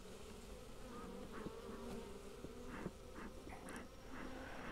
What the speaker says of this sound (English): every frame has bees on it.